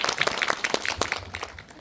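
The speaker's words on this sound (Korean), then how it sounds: "박수 한 번씩 칠까요?" A film screening audience in a Korean indie cinema claps in a brief, close burst of applause that thins out toward the end.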